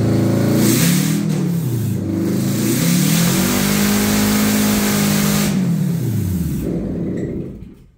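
A Subaru engine with a misfire and stalling problem at high rpm revs up and down repeatedly: loud, close, wavering rises and drops in pitch, then cuts off sharply at the end.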